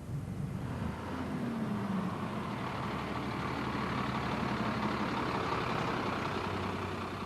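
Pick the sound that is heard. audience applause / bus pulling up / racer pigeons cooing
bus pulling up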